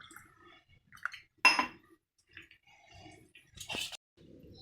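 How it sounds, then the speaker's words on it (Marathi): Appe batter being mixed in a bowl: sparse clinks and scrapes of a spoon against the bowl, with one sharper clatter, quiet and intermittent with gaps between strokes. "आता हे मस्त मिक्स करून घेते"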